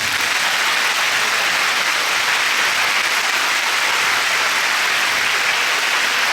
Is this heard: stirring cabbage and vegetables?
no